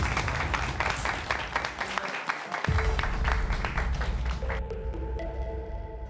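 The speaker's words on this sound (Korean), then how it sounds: "다 박수 쳐줘." A group of trainees bursts into applause for a winning team at a K-pop audition evaluation, dense clapping spread across the room, with a brief voice partway through and a faint tonal hum near the end.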